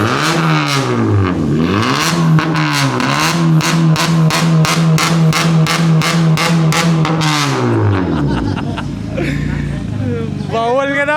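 A Mazda RX-7 FD with a straight-pipe exhaust revs hard and close, its engine note swooping up and down in repeated blips before settling into a rough, burbling idle.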